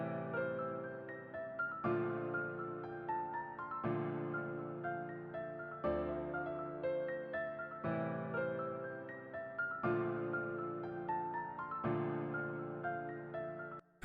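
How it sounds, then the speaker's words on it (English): An emotional piano top-line melody for a Lil Durk-style beat made in FL Studio plays alone, with phrases repeating in a steady two-second cycle, clean and mid-level. "I also had this top line melody on the piano"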